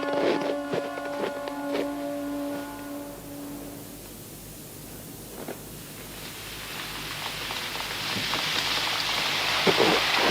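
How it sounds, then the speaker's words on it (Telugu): Cartoon rain falls in a soft, hissing wash that grows denser toward the end, with scattered drop taps and a few tonal notes fading early on. "వర్షం కురుస్తోంది."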